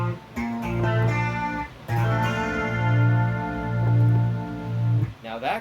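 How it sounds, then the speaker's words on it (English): A diminished chord strummed on guitar, ringing out twice with sustained, slightly buzzy tones, then a short final strum, close and without talk. "the final chord, which is a diminished chord, which sounds like this"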